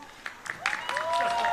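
Audience applause for the judges at a university diversity stage event, building from scattered claps to steady clapping, with voices cheering and calling out over it.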